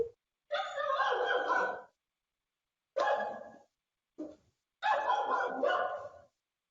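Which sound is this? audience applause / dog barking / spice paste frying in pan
dog barking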